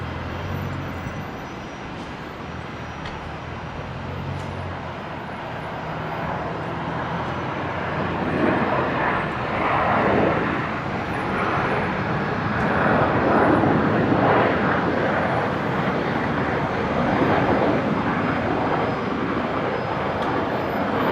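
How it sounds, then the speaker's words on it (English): A Qantas airliner from Melbourne approaching Brisbane International Airport, a steady loud jet engine roar that swells gradually and holds broad and sustained for about twenty seconds, with no talking. "Next arrival, Qantas 610 coming in from Melbourne."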